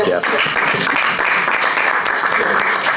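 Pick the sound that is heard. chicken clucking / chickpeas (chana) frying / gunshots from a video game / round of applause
round of applause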